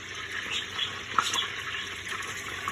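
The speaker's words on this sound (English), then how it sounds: "Getting ready for my bechamel, that's the melted butter" Butter with a little olive oil melting and sizzling in a pan as the start of a béchamel sauce, a steady soft frying hiss with faint crackles and one small pop, close and alone with no voices.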